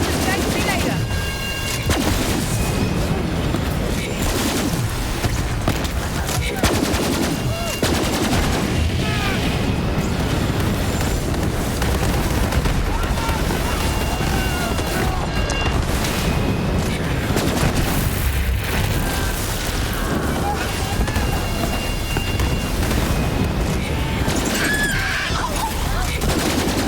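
Dense, nonstop gunfire and booming explosions from the Borderlands 3 expansion Psycho Krieg and the Fantastic Fustercluck, loud and layered with game music and effects throughout.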